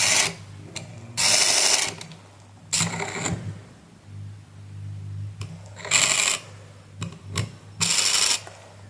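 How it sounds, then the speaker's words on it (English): Reduction gears of a microwave oven turntable synchronous motor whir in loud, steady bursts of several seconds each, separated by quieter pauses with faint clicks, heard up close with no talking. "All reduction gears are reducing speed."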